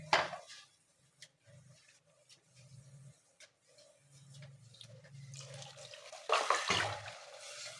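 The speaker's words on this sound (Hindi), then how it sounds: "अब इसमें मैंने डालना है पानी।" Water is poured into a pot of home-made nihari as it cooks, making a faint, intermittent trickle and splash with light clinks, then a louder pour near the end.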